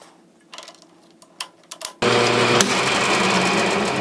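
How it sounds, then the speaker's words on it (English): After a couple of seconds of faint clicks and handling, a lathe starts up and runs with a steady, loud mechanical whir while turning a welded pie-cut exhaust part. "I'm going to fix that by taking it to the lathe"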